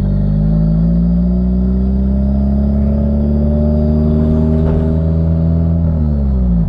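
A 2,200-pound drift car with a Nissan SR engine putting out around 300 horsepower at the wheels, its engine droning loudly and steadily from inside the cabin, pitch rising slightly before easing off near the end.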